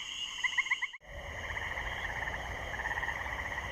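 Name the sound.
tree frogs nocturnal pulsating chorus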